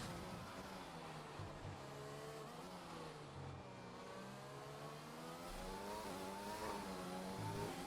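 A Mercedes Formula 1 car in the F1 2020 video game lapping the Canada circuit, a steady high engine whine that rises and falls in pitch through gear changes and acceleration, heard alone.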